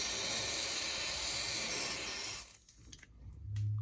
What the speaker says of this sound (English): I may even spray that with a little bit of WD-40 or some sort of penetrating oil